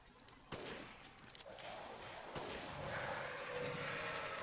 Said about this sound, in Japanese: なんか爆発してるんだけど。